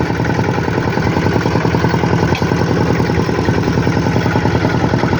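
An 8-horsepower mini tractor engine pulls a trailer with a loud, close, steady thumping chug that never lets up, with no voices over it.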